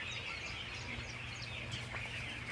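Tiny chicks at a meat-chicken poultry farm give a steady chorus of thin, high peeping chirps, moderately close, with a low hum of farm machinery beneath and no voices.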